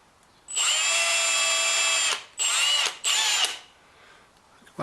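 A power drill whines at high speed boring into wood, with one long run followed by two shorter bursts, close and loud, then a quiet trailing tail.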